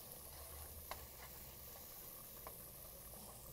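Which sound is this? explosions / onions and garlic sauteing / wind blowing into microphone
onions and garlic sauteing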